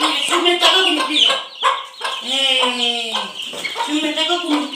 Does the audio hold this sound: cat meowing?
no